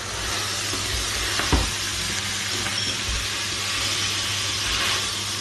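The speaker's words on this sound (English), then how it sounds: "let me stir this" Food sizzling steadily in a pan at home, with a soft stirring scrape around the middle, a continuous frying hiss throughout with no talk.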